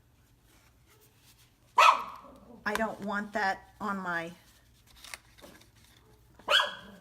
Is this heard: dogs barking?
yes